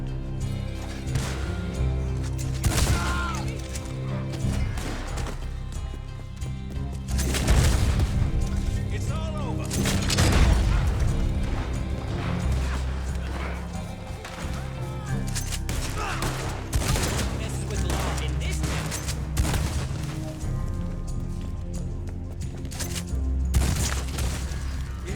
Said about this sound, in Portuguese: Essa Pump Action, ela tem um som, né, de disparo